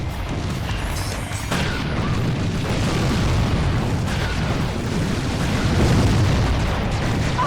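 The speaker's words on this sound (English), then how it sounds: "Send the missiles." Missiles firing and exploding in Twisted Metal 4 during a car-combat match, a dense, loud, continuous rumble of blasts and crashing booms with little letup.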